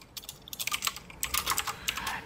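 Rapid keystrokes on a computer keyboard while code is typed, coming in uneven bursts of close, crisp clicks with short pauses between them, and no voices.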